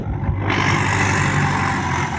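A 20 model tractor engine runs loud and close, a steady low rumble with a constant hum, no voices over it.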